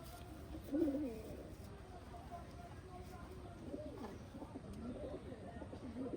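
Rare fancy pigeons kept for sale coo softly nearby, a low throaty burst early on followed by fainter coos and a few chirps against a quiet background, with a voice faintly present.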